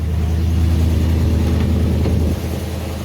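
An old bus engine idles while warming up, a steady low rumble with a heavy throb held close and loud throughout, dipping slightly near the end.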